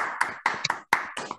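Audience at a Spanish-language talk on viral hepatitis claps in a short burst of applause, a few distinct hand claps standing out over a softer patter, close and moderately loud with no talk.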